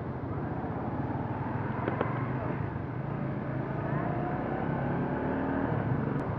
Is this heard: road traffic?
yes